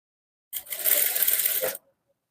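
Sewing machine running a short stitch along a blouse corner, a single steady burst of about a second and a quarter heard close up, with no talk.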